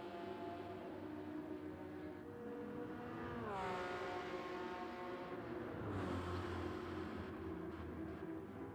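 Racing car engines in the Gran Turismo 7 video game sweep past, with a rising and then falling engine whine as cars pass one after another over a steady engine drone at low level, without speech.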